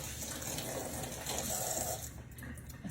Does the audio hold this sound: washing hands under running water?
yes